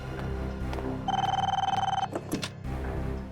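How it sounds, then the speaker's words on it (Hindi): A telephone rings with a fast trilling electronic bell for about a second, set among indoor drama sounds with a few knocks and movement noises around it. "ये उन्हीं का फोन होगा पापा"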